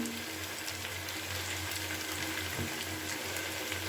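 Cut eggplant fries with rohu fish in a pan, a soft continuous sizzle and bubbling with faint clinks, fairly quiet and steady.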